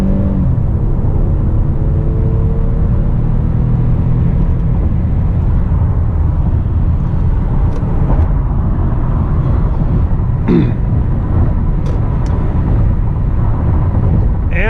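A 2008 Toyota Solara SLE with a V6 pulls hard in second gear, its engine drone rising steadily beneath loud road and wind rumble inside the cabin, with a few faint clicks near the end.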